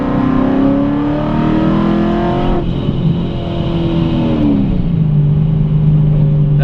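A car with a Procharged, supercharged 5.7 Hemi V8 pulls hard from third gear, a loud continuous engine roar climbing in pitch, dropping briefly, then climbing again as it accelerates.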